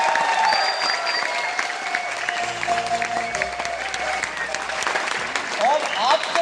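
Audience applause for a team, dense clapping filling the clip at steady strength with people talking over it throughout.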